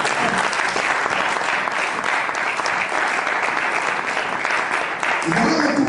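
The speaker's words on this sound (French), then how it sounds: "On acclame le Seigneur" Church congregation applauding steadily during a French-language sermon, a dense continuous clatter of many hands lasting throughout, with voices mixed in.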